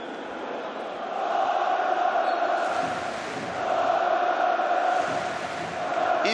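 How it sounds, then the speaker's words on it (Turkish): A large crowd of Fenerbahçe football fans roars in a stadium in İzmir during a cup final, a steady, dense wash of chanting and cheering that swells and eases in waves. "İzmir'de Fenerbahçe seyircisinin coşkusuyla"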